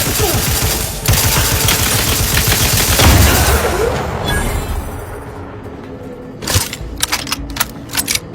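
Sustained automatic gunfire in the sci-fi shooter The Outer Worlds 2, a loud continuous barrage that eases off, then returns as sharp rapid bursts near the end.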